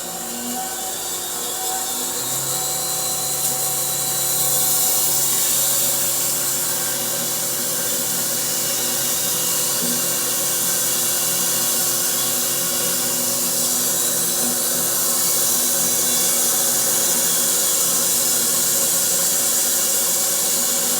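Electric bandsaw mill with a carbide blade slicing through a spalted hickory log, a loud, steady hissing roar of cutting and motor noise that holds constant throughout with no voices.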